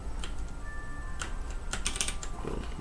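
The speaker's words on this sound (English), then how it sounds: "I'm going to teach y'all a keyboard shortcut. Alt-M." Quiet clicks come from a computer keyboard as a few scattered keys are pressed, including an Alt-M shortcut. The sharp taps sound irregular and close, with no speech.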